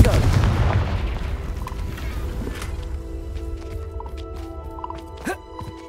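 A Confringo spell in the Hogwarts Legacy video game sets off a loud, booming blast at the start, and the noise then fades into a decaying rumble with faint crackles and small pops.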